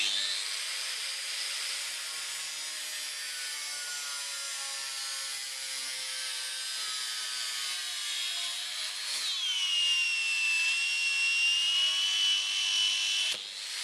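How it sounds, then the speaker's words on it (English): Angle grinder fitted with a cutting disc slicing into the grille of a Land Rover Defender, a steady high, whining scrape held close and loud for the whole stretch, its pitch dropping slightly and easing near the end with no talk. "we're just gonna run the angle grinder with a cutting disc down there."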